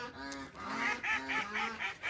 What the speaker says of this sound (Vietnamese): Mình về tới nhà bây giờ dịch gà nó kêu á. Đó, dịch gà mình nuôi nè.